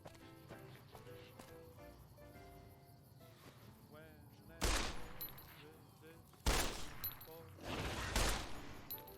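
Automatic gunfire in Fallout New Vegas: after quieter game sounds, two loud bursts of rapid shots crack out, followed by more firing near the end, with a voice talking over parts of it.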